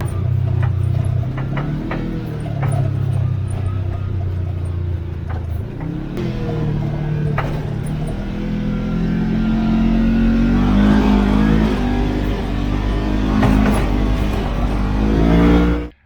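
A 2023 Kawasaki KRX4 UTV drives along with a steady mid-pitched engine drone that rises and shifts as it moves, with occasional knocks audible; any clunky noise is not clearly distinct.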